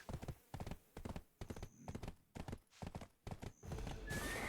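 A horse gallops in the online role-playing game Black Desert Online, its hooves pounding in steady, evenly spaced bursts of clip-clop, close and clear, with a brief rush of noise at the end.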